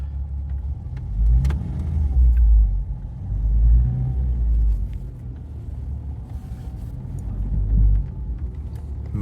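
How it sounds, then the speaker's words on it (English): A 3.2 VR6 in a Mk2 VW Golf rumbles as it rolls out of a garage under its own power after winter storage, a low steady engine drone swelling with gentle throttle a few times, close by with no talk. "Well, I'm just going to move it out of the garage"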